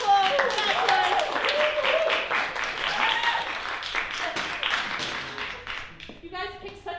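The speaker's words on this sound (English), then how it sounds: "round of applause for my wonderful bachelors." Audience applause for improv comedy performers at a university Christmas show, steady clapping throughout with voices mixed in, then fading near the end.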